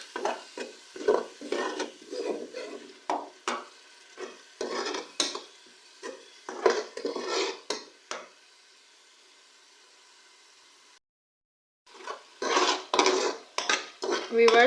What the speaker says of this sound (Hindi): अब हम लोग अपने मसाले की अच्छी तरह से भुनाई करेंगे।